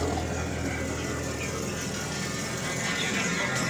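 A 1969 Pontiac Bonneville engine idles steadily and close by, a smooth continuous low rumble with no hesitation, heard alone without talk.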